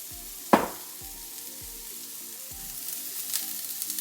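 Onions sautéing in a pan beside a vegan burger, a steady soft sizzle and crackle with a sharp clatter near the start and a few faint taps, no voices.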